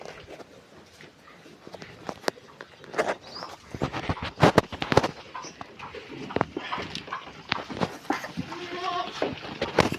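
Goats bleating around a farmhouse yard, several calls rising and falling across the stretch alongside footsteps and shuffling livestock noise, fairly close, with a dog faintly in the mix.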